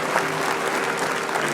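Guests at an institute's 30th anniversary gala give retired General Keith Alexander a round of applause, a full, continuous wash of clapping from a large crowd, close and steady without pause.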